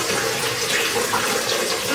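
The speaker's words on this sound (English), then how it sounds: "I'm filling up a lot of bottles of water here." Tap water runs steadily into bottles being filled ahead of an ice storm in Mississippi, a continuous close splashing rush with no voices over it.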